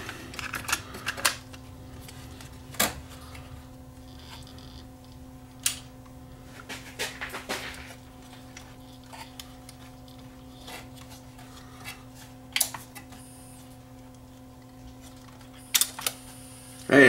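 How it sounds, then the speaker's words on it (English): Panasonic SA-PM27 cassette deck mechanism running with tape loaded after a repair: a faint steady mechanical hum under scattered small clicks and handling taps, close by and without talk. "the tape is moving"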